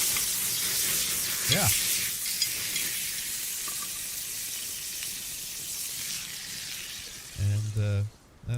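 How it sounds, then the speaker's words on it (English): Bacon frying in a pan, a steady soft sizzle and hiss running underneath, with a voice briefly heard over it and a louder burst near the end. "dude's frying his bacon"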